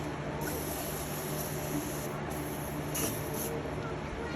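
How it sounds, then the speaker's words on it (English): Steady hissing spray from an aerosol can of cleaner onto an M35A2 truck's fuel pump, held in a few bursts up close, with a faint background hum. "I'm actually going to spray it"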